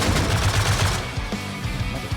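Heavy M2 machine gun fire in a video game, a rapid sustained burst of loud repeated shots that thins into scattered rounds near the end.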